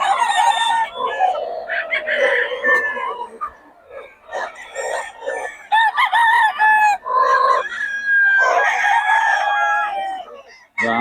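Several roosters crow repeatedly and loudly, overlapping one another, with clucking in between and no talking.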